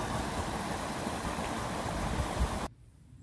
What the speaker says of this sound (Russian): Посмотрите, какой маленький водопад, а сколько шума! Вода как шумит.